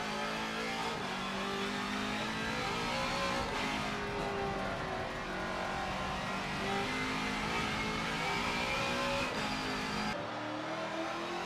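Racing car engine in a racing simulator game, revving hard under throttle on a mountain climb, a loud continuous roar rising and falling through the gears with no talk.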